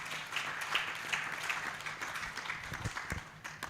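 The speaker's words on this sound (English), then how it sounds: "Please give them a big," Audience applause for an expert panel at the official launch event of Streamline Ubuntu in Uganda, steady moderate clapping with dense crackle throughout, fairly even and sustained in a large room.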